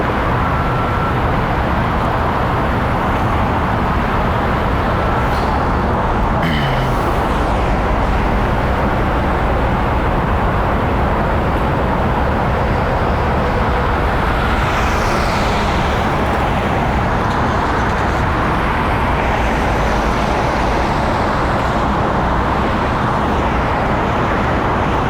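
Steady, loud roar of Los Angeles freeway traffic streaming past in open lanes near the Broadway exit, a continuous dense wash of passing vehicles with occasional louder pass-bys and no talk.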